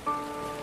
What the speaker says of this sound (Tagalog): Medyo mahina na yung ulan.